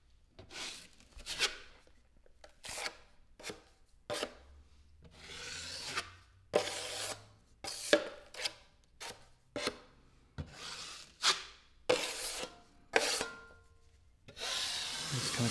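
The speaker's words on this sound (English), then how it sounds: "I always like to clean the edge of my brush off, or my putty knife." A putty knife edge is scraped clean of drywall joint compound in a series of short, close rasping strokes, about a dozen in irregular rhythm, quiet and alone.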